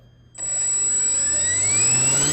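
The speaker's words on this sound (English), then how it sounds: "3-cell power with a brushless motor" An electric brushless motor on a ParkZone WW1 RAF S.E.5A R/C biplane kicks in abruptly and holds at full throttle, a loud, steady, high-pitched whine with a slowly rising tone.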